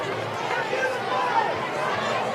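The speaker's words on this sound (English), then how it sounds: "we're picking up some of the crowd noise, and there's Vestavia faithful is not happy" Crowd of Vestavia fans at a high school football stadium, a dense, restless murmur of many voices with a close voice talking over it.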